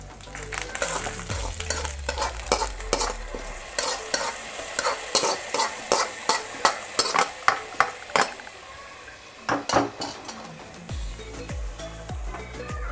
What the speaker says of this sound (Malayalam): ഇനി ഇതിലേക്ക് നമുക്ക് അണ്ടിപ്പരിപ്പ് മുന്തിരി ഇട്ടിട്ട് പായസത്തിലേക്ക് ഇട്ട് കൊടുക്കാം.